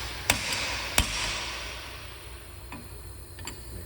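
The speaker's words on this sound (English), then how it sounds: "to tighten the actuator lockdown, we're just going to hit it a couple times" Two sharp metallic hammer strikes tighten an actuator lockdown on a Hydron assembly, landing close together near the start, followed by a couple of fainter taps later against a steady background hiss.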